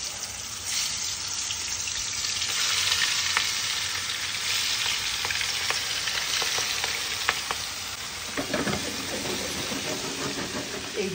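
Fish fry in hot oil with a loud, steady sizzle and scattered crackles close by. A sharper spitting burst comes near the end.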